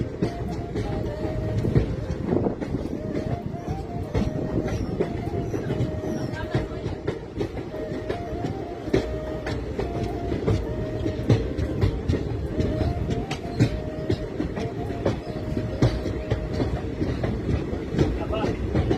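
A passenger train rolling along the rails toward Agartala through hilly northeastern India, with a steady, loud rumble of wheels and car noise throughout and a faint repeating clickety-clack over the track joints.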